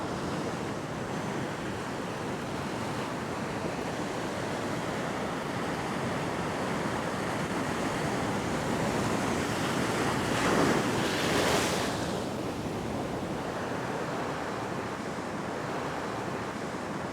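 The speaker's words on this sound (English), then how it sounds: "You can see those waves." Ocean waves wash against a rocky shoreline, a continuous loud rushing surf buffeted by wind noise, with one surge building and breaking toward the middle.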